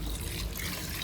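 Water is poured into a pot holding coconut milk for a pulao, a brief close steady trickling splash with no talking.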